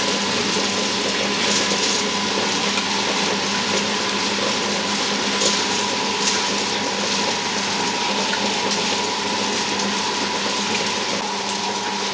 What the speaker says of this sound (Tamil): கொஞ்சம் கொஞ்சமாக போட்டு அரைச்சிடலாம்